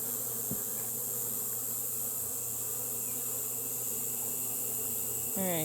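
Honeybees fanning inside an open hive during an inspection give a steady, dense buzzing drone that fills the whole stretch without pause, close and even, with a brief scrape near the end and no talk.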